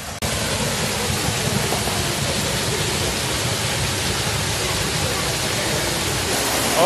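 A waterfall near a quiet village in Germany: a steady, broadband rushing roar of falling water, close and constant for the whole stretch with no talking.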